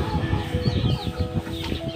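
Several native chickens cluck close by in short, overlapping bursts while being fed, with a few higher squawks mixed in.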